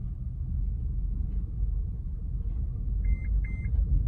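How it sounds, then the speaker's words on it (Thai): Two short electronic beeps near the end, a car's parking brake warning as the car pulls away with the handbrake still on, sound over a steady, low car engine rumble. "ออกรถไปนิดเดียว ก็จะมี เสียงเตือนขึ้นมานะครับ ที่ตัวเบรกมือ"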